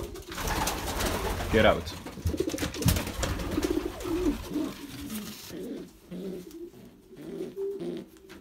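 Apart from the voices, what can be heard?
pigeons cooing in a breeding loft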